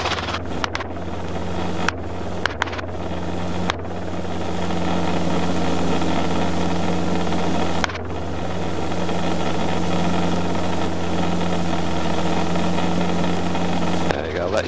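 A Robinson R22 helicopter's engine and rotor drone steadily through a transition during a training flight, a constant close hum broken by a few sharp clicks, with voices occasionally over it.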